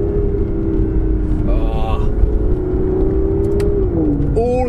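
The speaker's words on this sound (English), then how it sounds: "you can really hear that 177 derived exhaust system" An Aston Martin Vanquish drives along with its 177-derived exhaust system holding a steady engine drone, pitch sliding slightly, with faint pops and crackles layered over the continuous road rumble.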